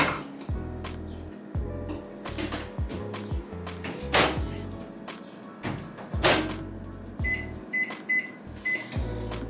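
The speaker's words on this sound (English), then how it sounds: "I'm gonna go ahead and microwave this" Kitchen sounds while using a microwave oven: a series of sharp clicks, knocks and thuds, like the door and buttons, spaced irregularly with a faint beep near the end.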